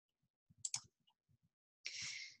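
Mouse clicks on a computer while working in presentation software, a few soft close clicks spaced out, followed by a brief breathy hiss.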